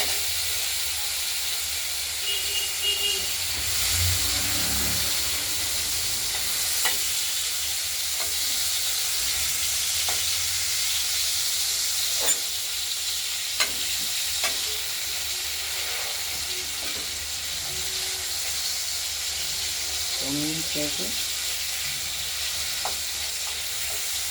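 Tomatoes hit a pan of fried potatoes in hot oil, setting off a loud continuous sizzle and hiss, with scattered scraping clicks of stirring over the frying for the whole stretch.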